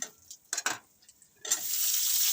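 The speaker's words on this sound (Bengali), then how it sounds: "এবার ছোট করে কেটে রাখা নারকেলের টুকরোগুলো ভেজে নেব দিয়ে দিলাম একটু কুচনো আদা" Coconut pieces and chopped ginger hit hot oil in a pan for bhuna khichuri. A few scraping stir clicks come first, then a steady, close sizzle rises and holds to the end.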